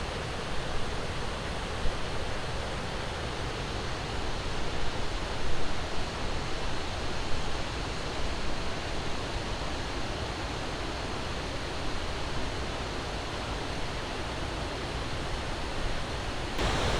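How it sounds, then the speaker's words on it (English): The waterfall at Burgess Falls State Park roars as a dense, steady rush of falling water, loud and unbroken throughout with no voices. "the water is going to be gushing at any point"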